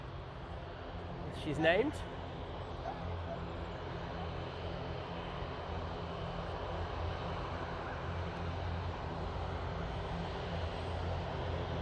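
An aircraft taxiing at Manchester Airport, a steady low engine rumble and broad roar at a distance, heard beneath a voice and a brief whistle-like sweep near the start.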